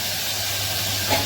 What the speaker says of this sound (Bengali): একটুখানি শুকনো লঙ্কা কালো দিয়ে ফোড়ন দিয়ে একটু আলুটা শুরু করে দিচ্ছি